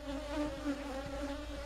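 A swarm of African bees being moved from a catcher box into a Kenya top bar hive gives a steady, dense buzz that stays fairly faint and close throughout a very short moment.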